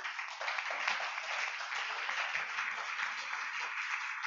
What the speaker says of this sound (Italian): E vi chiedo poi un applauso per Sergio Garufi